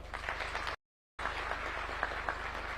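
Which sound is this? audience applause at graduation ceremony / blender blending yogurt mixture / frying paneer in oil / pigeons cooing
audience applause at graduation ceremony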